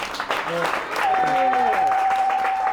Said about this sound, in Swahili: Makofi wakati anakuja.